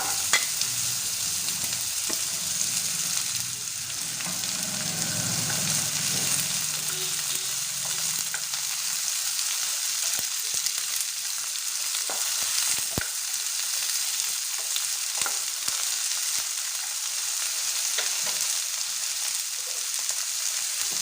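Onions fry in a pan with a continuous close sizzle and hiss that holds steady throughout. Occasional stirring scrapes and clicks break through the sizzle.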